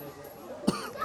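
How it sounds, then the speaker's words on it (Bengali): A person gives a single short, close cough amid a quiet background at a family picnic outing spot, with faint voices around it. "সে কাশতেছে"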